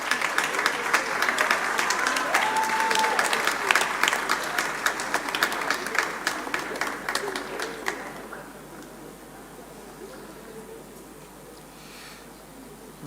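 Audience applause for a prize recipient at a school graduation and prize-giving ceremony, a dense steady patter of many hands clapping for about eight seconds before fading to a quieter room.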